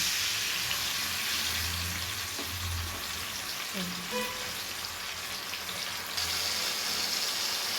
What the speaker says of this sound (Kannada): ಒಣಮೆಣಸಿನ್ಕಾಯಿ, ಹುಣಸೆಹಣ್ಣು ರಸ ಹಾಕ್ಕೊತಾ ಇದ್ದೀನಿ.